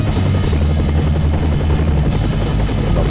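A helicopter in the SimCopter video game drones steadily and loudly throughout with a constant rotor hum and no talking.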